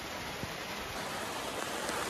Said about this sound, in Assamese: মই বাহিৰলৈ ওলাই গৈ দেখুৱাই দিব লাগিব পুৰা বৰষুণ দি আছে ন ফাটৰা বৰষুণ